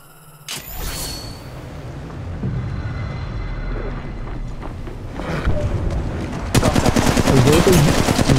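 Gunfire in the video game Apex Legends: a dense, continuous wash of rapid automatic shots and battle noise, growing louder and sharper toward the end into a close, stuttering machine-gun burst.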